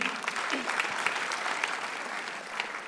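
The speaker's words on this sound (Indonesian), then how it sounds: "Tepuk tangan." Audience applause at a stand-up comedy show, a dense, steady wash of clapping that holds at an even level throughout without a break.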